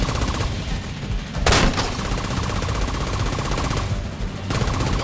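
Automatic weapons chatter in the online shooter Tom Clancy's The Division 2 as rapid, dense bursts of gunfire run almost continuously, loud and close, with a sharper crack near the middle.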